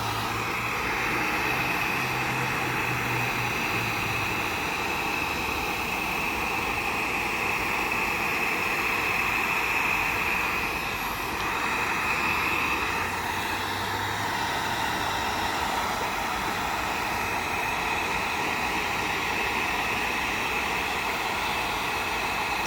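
A heat gun blows on plastic door panel trim in a continuous loud, steady airy roar and whine that never lets up over the whole stretch.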